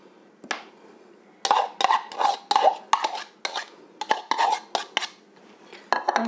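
A spoon or fork tosses a black radish and carrot salad with raisins and freshly poured sauce in a bowl, giving a series of close, crisp clinks and wet scraping strokes in quick bursts, without any voices.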